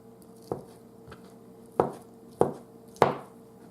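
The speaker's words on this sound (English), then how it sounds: "half rotisserie chicken and I cut it into bite-sized pieces" Knife cutting half a rotisserie chicken into bite-sized pieces on a board, four distinct chopping thuds at uneven intervals, close and fairly quiet, with faint softer taps between them and no talking.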